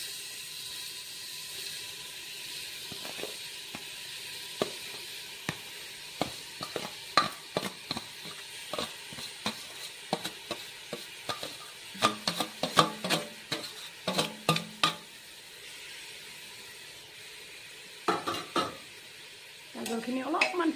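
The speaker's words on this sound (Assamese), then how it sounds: "গাজৰখিনি অলপমান ভাজি ল'ম।" Grated carrots frying in ghee with cardamom, stirred in a pan: a soft sizzle underneath repeated scraping strokes of a spoon against the pan, in irregular bursts and closer clusters, ending in louder handling noise.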